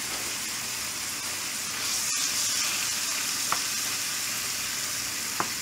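Food seasoned with garlic and pepper fries in a pan with a steady, hissing sizzle, broken by a couple of faint clinks near the end and no talk.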